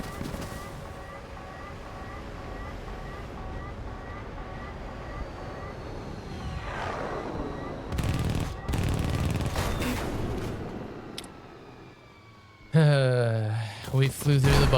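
Bursts of 30mm aircraft cannon fire rattle over a droning engine during a War Thunder air battle, with dense fast volleys midway and a louder harsh burst near the end.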